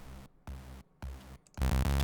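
A thick, buzzy detuned unison synth oscillator tone plays in short bursts separated by brief gaps, swelling louder and fuller toward the end.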